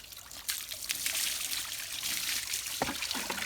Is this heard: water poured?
yes